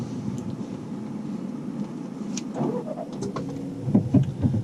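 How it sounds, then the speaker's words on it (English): A car engine cranks and catches at the start of a driving test, a low rumble with a brief rise in the middle, then idling with faint clicks and shuffles inside the cabin. "if you'd like to start the engine"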